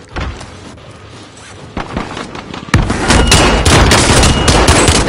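Video game gunfire crackles in scattered shots at first, then erupts into a loud, dense, continuous barrage of rapid fire.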